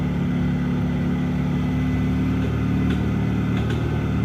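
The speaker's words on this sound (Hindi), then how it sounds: "लग रहा है इंजन के अंदर कुछ टूटा हुआ है," A Mahindra Supro engine with a suspected internal break runs with a loud, steady low drone, while faint irregular clicks or knocks surface now and then over the hum.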